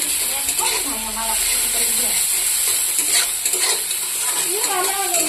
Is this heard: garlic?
yes